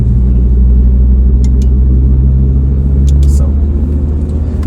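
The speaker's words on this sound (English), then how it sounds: "just warm the car up a little bit" A stage 4 tuned Audi RS3 8V1 with CZG engine, steel block and TC870XT turbo, warming up on a dyno: a loud, steady, deep idle rumble close by, with a brief spoken word.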